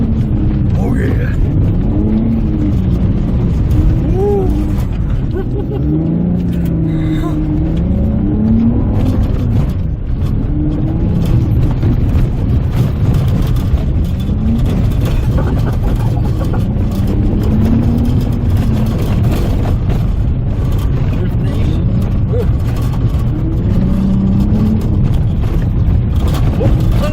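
A totaled salvage-auction Honda S2000 with mechanical issues drives along, its engine droning and rising and falling in pitch as it accelerates, heard from inside the car with occasional voices over it.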